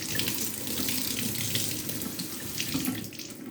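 Water runs steadily from a kitchen tap onto a Norwex scrubber, a continuous close splashing hiss with no talk.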